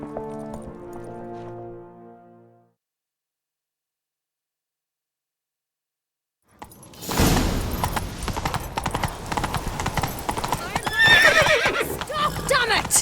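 A horse whinnies briefly in The Witcher 3: The Wild Hunt, then after a pause a loud, busy stretch of galloping hooves and clatter follows, dense and close.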